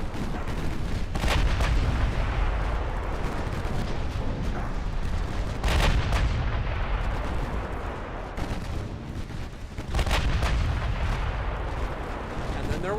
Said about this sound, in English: that poor destroyer just got yeeted by 6-inch guns